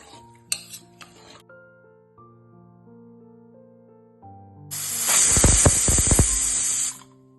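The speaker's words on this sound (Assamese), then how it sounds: "এতিয়া মই পুৰাপুৰি এটা চিটি মাৰি দিম।" Pressure cooker of veg pulao lets out a loud, hissing steam whistle lasting about two seconds, preceded by quieter kitchen clatter and a soft musical background.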